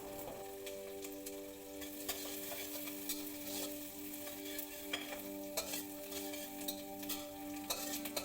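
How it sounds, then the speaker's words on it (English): Chopped onions and curry leaves with their stems frying in hot oil for a yogurt-marinated mutton curry, a steady close sizzle broken by occasional scrapes and clicks of stirring. "Continue to stir all the ingredients in the oil until the onions turn golden brown."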